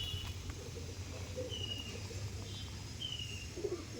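Pigeons at a loft cooing softly in low, murmuring calls over a busy outdoor background, with a few faint chirps.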